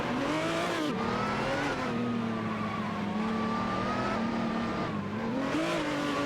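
Race car engines in a racing video game, with a Radical RXC and a McLaren 675 LT on track, roar continuously at high revs, pitch rising and dipping through gear shifts, loud and close with no talk.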